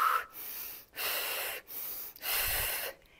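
Strong, steady breaths during a plank exercise in a full-body workout, three long exhalations separated by brief pauses, close and loud with no speech.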